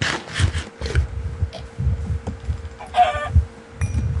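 A chicken in the video game Minecraft, with low, soft clucks repeating in an irregular rhythm alongside brief higher blips and game sound effects, moderately loud and close.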